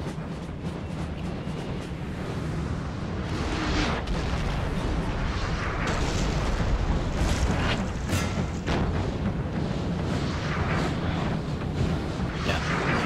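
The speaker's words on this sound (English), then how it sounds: "Start firing on these guys." Musket volleys and artillery from a Napoleon Total War battle: a dense, continuous rumble of booms and crackling gunfire, loud and sustained throughout.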